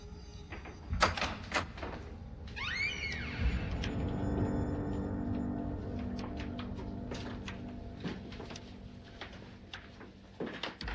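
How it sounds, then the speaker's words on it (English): A door is opened in a horror drama scene, with clicks, a creaking sweep and several knocks and thumps spread across a stretch of dark room tone, fairly close, with no talk. "Open the door."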